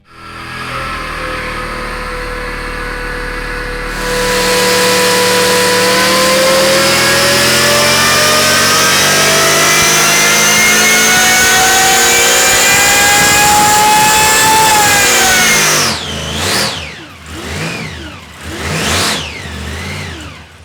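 A supercharged 350 small-block Chevy V8 revs hard and climbs steadily to a high-pitched scream, holds loud near the top, then cuts off and blips a few times as it settles.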